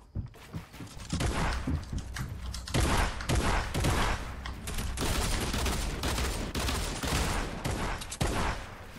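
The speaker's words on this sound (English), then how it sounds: "Yo, stop shooting me down" Rapid gunfire from an arena video game, a near-constant fusillade of overlapping shots and bursts for nine seconds, loud and dense with brief dips between volleys.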